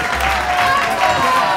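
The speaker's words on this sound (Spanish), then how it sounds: "Un aplauso para ella." Studio audience on a television show clapping together, a loud dense burst of applause that lasts briefly, with a voice speaking over it.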